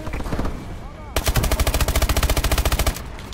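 Sustained rapid automatic gunfire from an AK12 Fluted rifle in Call of Duty: Advanced Warfare hardcore multiplayer, a loud close burst of about twenty evenly spaced shots lasting nearly two seconds, after muffled game ambience and a few distant pops.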